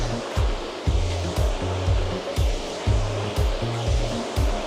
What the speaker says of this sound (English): So I'm just going to take a couple of strokes here, but yep, this is torture, which everyone loves here. That's our paddle ergometer.